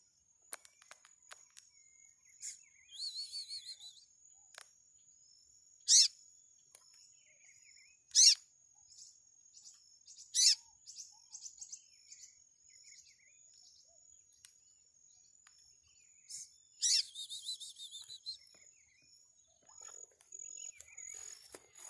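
A papa-capim bird sings outdoors in a garden, giving thin, high chirps and short trills in scattered bursts over faint insect chirring, with soft rustles between.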